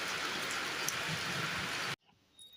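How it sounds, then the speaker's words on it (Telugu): Dense, steady roar of heavy rain pouring down, close and loud, cutting off abruptly near the end to near silence. "ఇట్లా పెద్ద వర్షం పడుతుంది"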